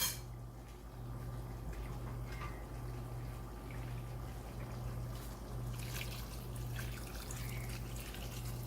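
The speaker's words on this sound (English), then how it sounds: "And then we're gonna add some more water." Water trickles quietly into a cooking pot of Surinamese brown beans with mixed meat, a soft continuous pour under a steady low kitchen hum, with no talk.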